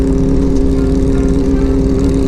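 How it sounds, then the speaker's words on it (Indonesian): A Harley-Davidson motorcycle engine revs in a tunnel, a loud, steady low rumble with strong harmonic drone that fills the space without pause and echoes off the walls. "Kita geber dulu nih anak Harley ya kan."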